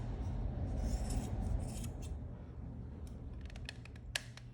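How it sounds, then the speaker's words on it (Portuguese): Scissors snip through fabric scraps in a handful of quick, sharp cuts near the end, following a stretch of soft rustling handling noise close by. "Agora é só a gente cortar aqui."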